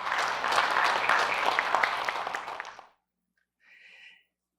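A seminar audience gives hearty applause at a panel on Mato Grosso's environmental regularization program. About three seconds of full clapping stop abruptly, followed by a brief faint tone.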